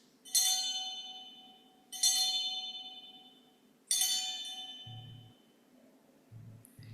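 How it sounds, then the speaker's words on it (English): A small bell rings three times at a Mabon altar ritual, each clear metallic strike spaced about two seconds apart and left to ring out and fade, close and alone, followed by a few soft low thumps. "then ring the bell 3 times."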